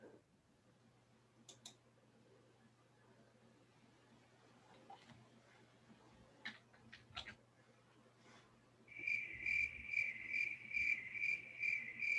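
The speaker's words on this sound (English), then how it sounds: "Okay, who's got the crickets?" A cricket chirping sound effect played from a soundboard during a broadcast, with steady rapid pulsed chirps that start near the end after quiet background noise and a few faint clicks.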